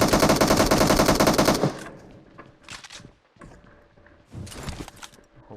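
Gunfire from MK rifles in a video game: a loud, sustained burst of rapid automatic shots for the first couple of seconds, then it breaks off into scattered thuds and shorter cracks over a quieter background.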